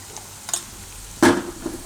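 Soya chunks with red chili and Kashmiri chili powder get stirred in a pan over low gas: a faint tap, then one firm scrape of the spoon over a soft sizzle.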